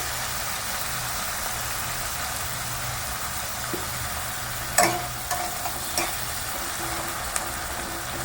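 Chopped onion fries with salt in a pan for a Bengali-style katla fish curry, a steady soft sizzle with a few sharp clinks and scrapes of a spatula.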